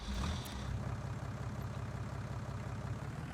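A small, old tractor engine in the farming video game Farming Simulator 19 idles and chugs steadily with a low, even rumble and a slight rise at the start.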